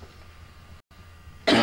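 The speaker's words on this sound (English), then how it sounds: "Oh, listen to that cough." A single sharp, loud cough bursts out near the end after a stretch of quiet indoor room tone.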